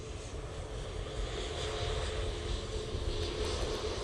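A Ryanair aircraft taxis at Manchester Airport, a faint, steady engine hum and broad rumble at a distance, unchanging over a few seconds.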